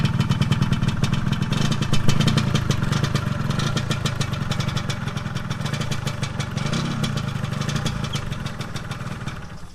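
Original exhaust of a 1995 Yamaha RXZ motorcycle running at a steady idle, a close, loud, continuous rapid two-stroke putter with a slight clatter and no talk over it.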